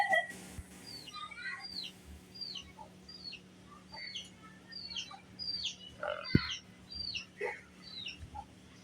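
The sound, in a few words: chickens clucking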